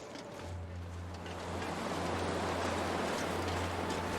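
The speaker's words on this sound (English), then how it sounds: "It sounds windy." Steady wind in the wintry wilderness survival game The Long Dark blows as a broad, constant rushing noise that swells a little over a few seconds, with a low steady hum beneath it and no voices.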